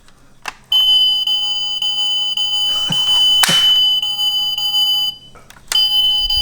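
Loud, shrill electronic siren of a 1:20 scale alloy Tesla Model X toy car's alarm, sounding continuously for about four seconds after a short click, pausing briefly, then starting again.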